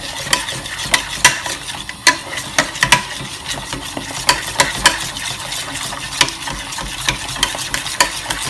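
Scrambled egg stirred in a frying pan over fairly high heat, a steady sizzle broken by repeated sharp scrapes and taps of the utensil against the pan, close and fairly loud with no talking.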